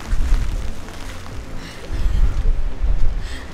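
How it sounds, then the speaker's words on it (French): Rain falls steadily in the Scottish Highlands, a dense broadband patter mixed with gusty low rumbling, loud and close, with no voices. "il pleut"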